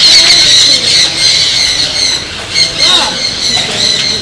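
Birds at Malacca Zoo let out loud, shrill squawks and squeals in repeated bursts, close and busy, mixed with voices of visitors talking nearby.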